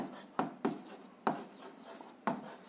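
A pen writes on paper nearby, producing four sharp scratchy strokes spaced irregularly over a soft, steady rustle, with no voices.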